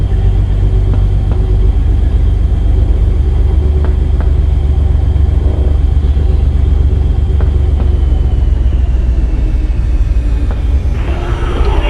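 A Beechcraft Baron 58 twin-engine plane in X-Plane 11 taxis with a constant low, rumbling engine drone at steady RPM. The loud hum runs unbroken throughout with no voices.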